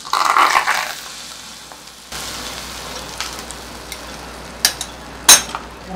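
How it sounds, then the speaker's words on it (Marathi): Hot tempering of cumin, chillies, curry leaves and a pinch of asafoetida is poured onto radish-pod salad, a loud sizzling burst at the start that quickly fades to a low hiss with a few faint crackles and clinks. "ही छान सुरसुरीत फोडणी आपण याच्यावर घालायची"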